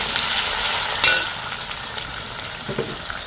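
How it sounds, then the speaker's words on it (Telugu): Dried red chillies, cumin and fenugreek fry in hot oil in a clay pot, giving a continuous close sizzle with a brief louder crackle and a faint clink of stirring. "ఎండుమిర్చి ఇలా ఎర్రగా కాగాలి, వేగాలి, బాగుంటుంది"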